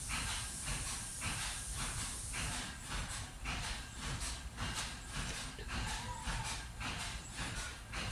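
Food dropped into hot oil for rui paturi sizzles with a dense, continuous hiss that swells and pulses in waves, loud and close throughout.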